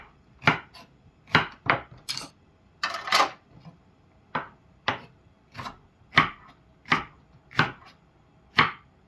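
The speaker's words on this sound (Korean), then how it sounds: "대파 한 대 정도 이렇게 숭덩숭덩" A knife chops through one stalk of green onion (daepa) on a cutting board, with about a dozen crisp, close, loud knocks in a loose rhythm and short pauses between them.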